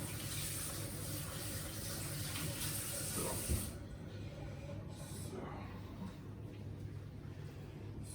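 Tap water runs steadily into a small bowl or cup at a kitchen sink during cookie baking, a continuous hiss that changes pitch partway through as the vessel fills.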